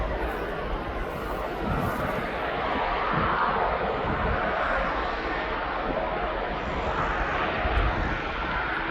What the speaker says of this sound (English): That is a Beach King Air B200